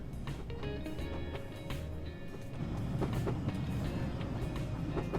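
A BR Class 506 electric multiple unit runs along the Woodhead line toward Manchester in Train Simulator 2021, a steady rolling rumble with faint clicks and a hum that grows a little louder partway through.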